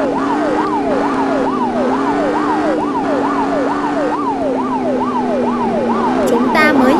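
A police car siren wails loudly and continuously in a fast rising-and-falling pattern over a steady engine drone, with a brief higher sound near the end.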